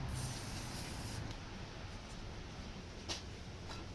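Steady spray of brake cleaner onto a greasy rear wheel hub of a Ford Transit 350HD during brake and hub bearing seal work, a continuous close hiss throughout with a couple of brief taps.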